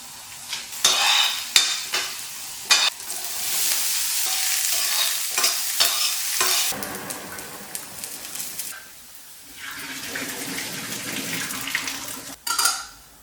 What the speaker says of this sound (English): With a tablespoon of oil, 4 garlic cloves, an inch of ginger that we saute until they are aromatic, 1 big onion diced